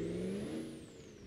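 A 6.8 diesel pickup engine in the video game BeamNG.drive on a rock crawl, a steady low drone with a faint high whine, fading slightly at the end of a short burst.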